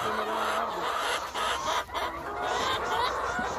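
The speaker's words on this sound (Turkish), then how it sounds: "Bakın dostlar, yarkalar bunlar." Young hens that have just begun laying cluck close by in a poultry coop, a busy run of short overlapping clucks and calls from several birds that keeps on without a break.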